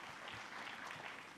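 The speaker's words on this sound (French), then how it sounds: "Je voudrais que nous applaudissions d'ailleurs ce succès" Scattered applause from an audience celebrating the success of a Vega satellite launch carrying O3b satellites, steady and quiet across the whole moment with no voices on top.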